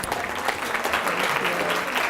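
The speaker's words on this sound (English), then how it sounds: "Give her a round of applause." An audience applauds for a fashion presenter being welcomed on stage, steady dense clapping at moderate level filling the whole stretch without a break.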